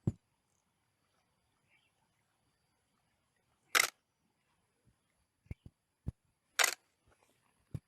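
A single-lens reflex camera fires its shutter outdoors in program mode: two sharp, loud mechanical clacks a few seconds apart, with several fainter clicks and taps scattered between them in otherwise quiet surroundings.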